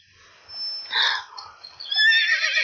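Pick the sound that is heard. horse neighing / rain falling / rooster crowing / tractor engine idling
horse neighing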